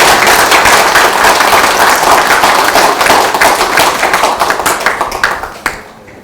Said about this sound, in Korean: 우리 토론자와 발제자 선생님들께 큰 박수 보내주시기 바랍니다